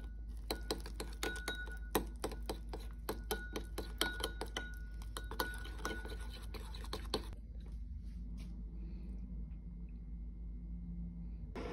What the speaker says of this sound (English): Then we're gonna stir that together.